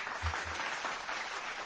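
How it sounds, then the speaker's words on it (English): A burst of applause from a crowd, a dense, even wash of clapping holding steady for under two seconds, with no talk over it. "Hey, where's clapping? Applause."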